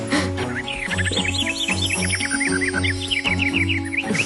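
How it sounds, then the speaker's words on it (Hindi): Cartoon bird chirping in quick, repeated high tweets that run steadily throughout, over a low rhythmic musical backing, with no talk. "कितने दिनों बाद सतरंगी को फिर चहकते खेलते देख रहा हूँ।"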